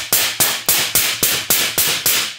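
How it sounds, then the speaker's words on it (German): Hammer chipping slag off a fresh flux-cored weld bead, struck eight times in a steady, evenly spaced rhythm, each sharp metallic tap close and loud with no talking. "So, jetzt machen wir hier erstmal die Schlacke runter."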